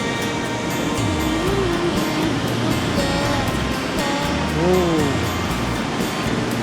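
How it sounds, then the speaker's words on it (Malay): Continuous wash of ocean surf in Phuket under people's voices, with occasional swelling surges. "dengar bunyi ombak"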